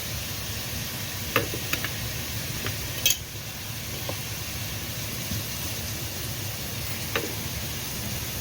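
Green chilli paste being stirred in a pan during home cooking, with a soft steady sizzle broken by a few sharp clicks and scrapes of the spoon against the pan.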